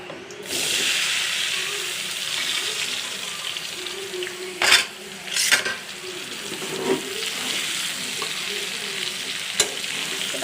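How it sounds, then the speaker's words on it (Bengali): Vegetables fry in hot oil in a kadai with a steady, even sizzle, broken by several sharp scraping stirs of a utensil against the pan. "কড়াইয়ের মধ্যে তেল দিয়ে দিছি তো এগুলোকে ভালো করে ভেজে নিব"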